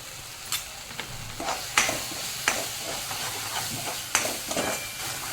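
Pav bhaji masala sautéing in a hot pan: a steady close sizzle broken by several sharp scraping strokes from a spoon, with no talking.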